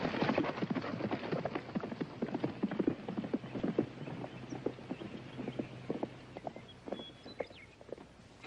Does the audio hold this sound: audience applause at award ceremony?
no